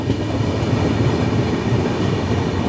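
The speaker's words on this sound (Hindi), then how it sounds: "काफ़ी स्लोली जा रही है हमारी ट्रेन।" Capital Express passenger train rolling slowly through a tiger reserve on the Kamakhya–Siliguri route, a steady low rumble of wheels and carriage noise with no voices, continuous and fairly loud throughout.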